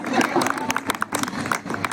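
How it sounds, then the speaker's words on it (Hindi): Audience at a kavi sammelan poetry gathering applauding a poet, a brief burst of dense clapping with crowd murmur and a voice speaking over it. "एक बार मीर जी के लिए तालियां बजाएं"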